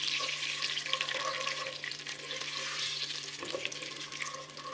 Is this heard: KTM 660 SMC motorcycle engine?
no